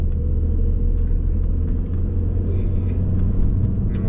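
A BMW E46 car drives along a road with a steady, loud low engine and tyre rumble throughout, no voices over it.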